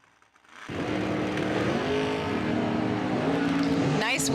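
A dragster launches down a drag strip at an end-of-year racing event, its engine exploding to a loud, sustained roar after a quiet start, with a public-address announcer audible beneath it.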